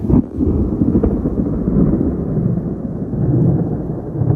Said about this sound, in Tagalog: Nakakatakot ang kulog.